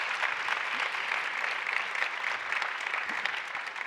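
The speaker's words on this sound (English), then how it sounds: "So another round of applause to them, if you don't mind." Steady audience applause fills an evening salon event in Texas, a dense, even wash of many hands clapping at moderate volume from start to finish without any voices.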